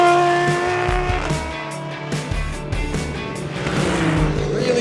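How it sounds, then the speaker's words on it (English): Race cars roar past trackside at the Bahrain circuit, loud engine notes rising and falling as several cars pass close by in quick succession. "This is probably the closest we can get to the cars here trackside in Bahrain."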